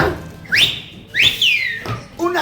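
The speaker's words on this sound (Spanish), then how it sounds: "una silbadita nos daremos" A person whistles in a huayno song with harp, sharp rising and falling whistle swoops coming in short repeated phrases, loud and close over a faint background.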